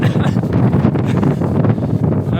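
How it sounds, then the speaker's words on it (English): Strong wind gusting across Europe's highest sand dune, a dense continuous roar of buffeting wind noise against the microphone, loud and steady throughout. "let's wait for the wind"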